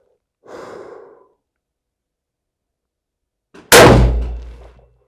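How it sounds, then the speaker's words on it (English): A single loud .308 rifle shot, fired at a range through a rifle fitted with an LPVO scope, cracks sharply and booms, then decays. A soft breath is heard a few seconds before it. "That's 5 shots of 308 with the 126 Premium LPVO"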